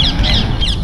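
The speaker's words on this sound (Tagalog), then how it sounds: "Ingay naman ng ibon na yun." Several noisy birds give loud, harsh caws, like crows, in quick repeated calls over a low, steady background rumble.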